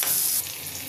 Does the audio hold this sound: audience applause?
no